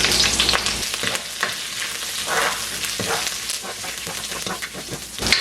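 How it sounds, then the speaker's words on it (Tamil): Curry leaves and ginger fry in hot oil for a Jaffna-style beef sambal, a dense, close crackling sizzle with popping bursts and stirring scrapes throughout. "இதில் வந்து நான் கருவேப்பிலை வந்து 3 காம்பு கருவேப்பிலை சேர்க்க போகிறேன்."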